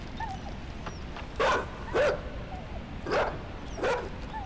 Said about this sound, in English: Shut up, doggy.